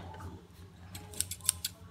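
Scissors cutting through artwork in a hotel room, giving a few sharp snips close by in the second half over a quiet, low room hum.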